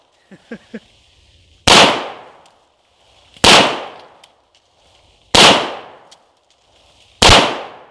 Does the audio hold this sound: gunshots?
yes